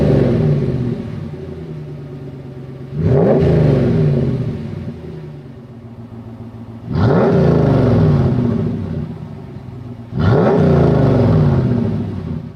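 Dodge exhaust with Flowmaster FlowFX dual-mode active mufflers: three loud revs swelling into a deep rumbling roar, each settling back to a steady idle between blips, recorded close.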